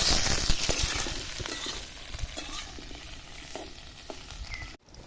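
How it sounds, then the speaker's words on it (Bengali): Pointed gourd pieces frying crisp in hot oil, a constant hissing sizzle with scattered stirring clicks, louder at first and then settling before a brief dropout near the end. "আমি পটলগুলো যেমন কড়া করে ভেজেছি তোমরাও এরকম কড়া করে ভেজে নেবা"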